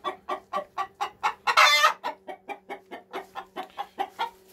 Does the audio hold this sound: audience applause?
no